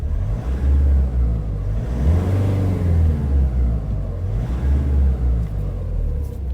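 A car engine rumbles low and idles, rising in a couple of mild revs before settling, close by with no talking.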